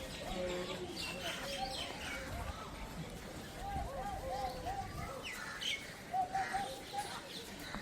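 Birds chirp and coo at a park aviary, with scattered short calls and tweets heard faintly at a distance over a steady outdoor background.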